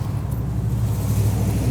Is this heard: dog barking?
no